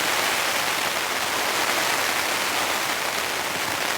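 Heavy rain pours steadily onto a tent during a camping trip in a wind storm, forming a dense, even hiss of drumming drops that fills the space up close without a break.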